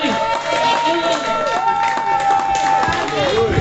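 Church congregation of women cheering and acclaiming Jesus, a loud, dense crowd of voices with ululating and whooping calls, sustained throughout without a break.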